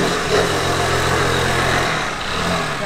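A Sprint iGet scooter fitted with a Malossi 80cc cylinder runs close by, a steady buzzing two-stroke engine note holding at a constant pitch with slight wavering and no speech.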